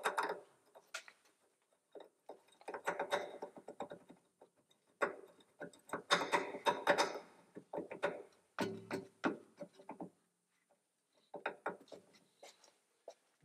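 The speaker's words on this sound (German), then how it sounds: "Die Schrauben vom Federbein einmal rein." Strut bolts on a rear suspension being run in on a Mercedes ML W163, an irregular series of close metallic clicks and ratcheting bursts with brief pauses between them, fairly quiet.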